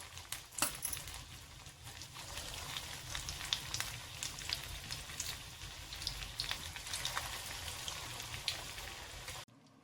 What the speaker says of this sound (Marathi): कमी पॉवरवर तळायचं